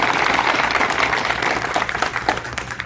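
An audience at a workplace safety celebration bursts into sustained, loud applause, steady dense clapping from many hands filling the room for several seconds.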